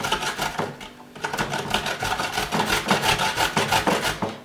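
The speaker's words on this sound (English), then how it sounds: "And then you have to use mature coconuts. Yeah, so let's grate it." A mature coconut is scraped against a grater in quick, rhythmic rasping strokes: a close, steady scratching with a brief pause near the start, then continuous grinding.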